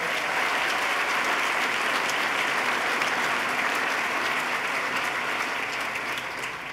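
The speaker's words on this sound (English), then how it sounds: "Let's give him a round of applause." A large audience at the 2014 New York State of the State address applauds Lieutenant Governor Bob Duffy, a sustained, dense roar of clapping filling the hall and tapering slightly at the end.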